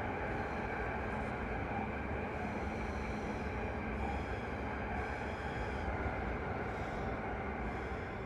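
Flirt 3 electric multiple unit running between Frankfurt and Koblenz in Train Simulator, a steady continuous rumble and rolling hum of the train in motion with faint high tonal whine, no talking.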